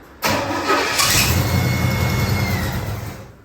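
A Bandit Pontiac Trans Am engine cranks and catches after its bowls are primed, bursting into a loud, rough idle that holds close by before gradually settling and fading.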